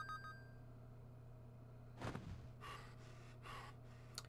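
A character breathing heavily in the video game Ripened! Tingle's Balloon Trip of Love, a few faint gasping breaths over a steady low game hum, with quiet tones at the start.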